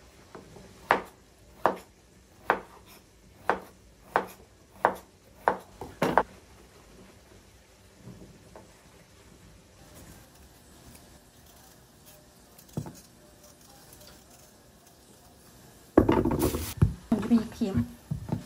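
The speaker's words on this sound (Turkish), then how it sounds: "Ve bu kabak yetmez. Bir tane daha doğrayayım." Knife chops through a zucchini on a board in an even series of about eight sharp strikes, then quieter kitchen sounds and a louder clatter near the end.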